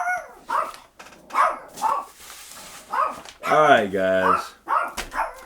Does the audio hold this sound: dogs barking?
yes